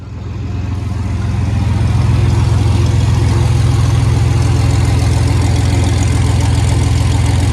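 A diesel turbo vehicle engine idles close and loud, a steady low throbbing rumble that settles after a slight rise at the start, with no talk.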